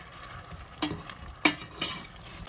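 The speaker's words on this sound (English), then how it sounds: "Then I'm gonna start adding my onions." Onions sizzling and frying in a pan while being stirred for Jamaican escovitch king fish, with a steady hiss and a few sharper scraping bursts, close up and with no talking.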